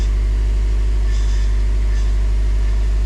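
Subaru WRX/STI power steering with air in the system, with the engine idling and the wheel locked to one side, giving a steady loud droning hum with a faint whining, gurgling edge that swells briefly twice.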